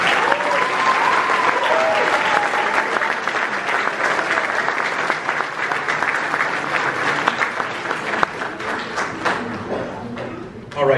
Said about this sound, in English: So one more round of applause for us.